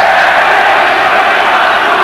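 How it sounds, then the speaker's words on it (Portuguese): São Paulo FC supporters roar inside Pacaembu stadium during a 2000 Copa do Brasil match against Comercial MS, a dense, loud, unbroken wall of crowd noise that holds steady throughout. "Aí a torcida do São Paulo."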